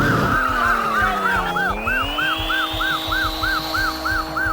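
Arcade Chase HQ racing game audio: a car engine whines and climbs in pitch as a boost kicks in, over a looping police siren and skidding tyres, loud and continuous.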